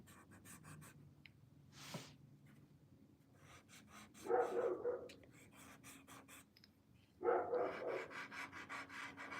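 A dog at home gives two short bursts of barking separated by quieter stretches of panting and faint rubbing, the barks fairly close but moderate in level.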